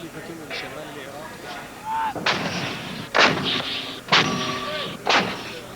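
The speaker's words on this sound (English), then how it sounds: "That is the sound of battle in Basra." During battle in Basra, distant artillery and gunfire boom in a series of four heavy, reverberant blasts roughly a second apart, with a quieter rumble of combat running underneath.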